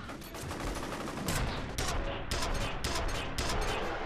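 Gunshots from a gun in the video game F.E.A.R. Extraction Point, dense loud bursts of fire with several sharper cracks standing out, close and continuous without talk.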